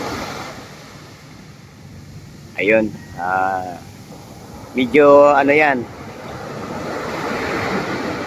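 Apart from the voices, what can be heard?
ocean waves at shore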